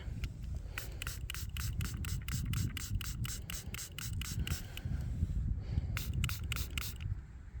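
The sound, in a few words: spraying a found coin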